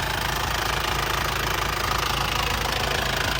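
A 1997 Ford Marathon cab pickup's engine runs at a steady idle, a loud, close, continuous mechanical rumble with a fine knocking texture and no talk over it.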